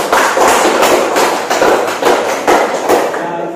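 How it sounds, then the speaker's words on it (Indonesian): A burst of clapping from a classroom group, steady and dense, rising and falling slightly over a few seconds. "berikan tepuk tangan untuk kelompok 3"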